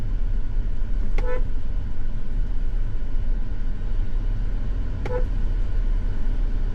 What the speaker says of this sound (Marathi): तू किती हॉर्न वाजवतोय वाजव